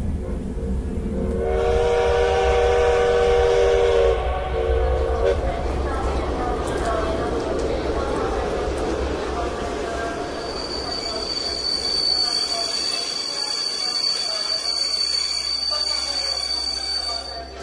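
A train pulls into a station, its wheels squealing loudly and tonally over a deep rumble as it slows. Screeching rises and falls and continues to the end, close and dominant.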